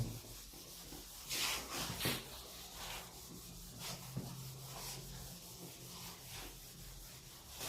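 Writing being rubbed off a board, soft scrubbing strokes at low level with a couple of brief knocks, all against a steady background hum.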